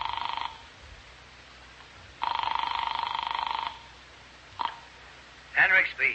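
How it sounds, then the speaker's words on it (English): Old telephone ringing in a radio drama, two long buzzing rings with pauses between, then a click and a brief burst of handset noise, close and moderately loud with no talking. "I found a telephone with no one around. I dialed Cal Hendricks' number in New York"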